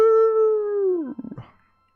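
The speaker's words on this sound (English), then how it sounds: "you can all clearly hear howls that grow louder and louder into a chorus" Wolf howling: one long, steady, close howl that drops in pitch near the end and breaks into short, fading yips.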